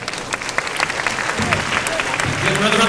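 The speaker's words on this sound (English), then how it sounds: "Another round of applause, please," Audience at a World University Debating Championship grand final applauds steadily, dense continuous clapping that swells slightly toward the end, with faint voices mixed in.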